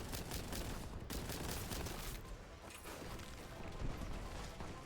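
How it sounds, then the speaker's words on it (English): A crack grenade thrown in the shooter game Warhammer 40,000: Boltgun erupts into a dense, loud barrage of crackling blasts and crashes that continues almost without a break. "Oh, I threw the crack grenade."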